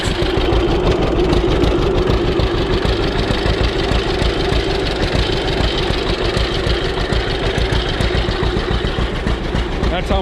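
A John Deere A tractor that had sat three years runs close and loud, its engine putting out a rapid, uneven chugging pulse over a deep rumble, with a voice faintly present.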